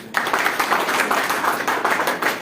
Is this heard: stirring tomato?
no